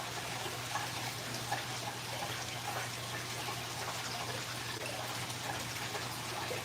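Steady rushing and gushing of aquarium water being siphoned out while the gravel in a fish tank is cleaned, continuous and fairly loud throughout, with a low hum underneath.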